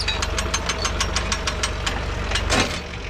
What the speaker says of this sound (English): So you'll hear it clicking now when I'm pulling.